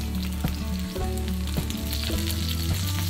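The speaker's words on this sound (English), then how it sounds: "By frying the chicken with plenty of oil," Chicken pieces for teriyaki chicken with sansho fry in plenty of oil in a pan, a steady close sizzle and crackle with occasional stirring noises and no voices.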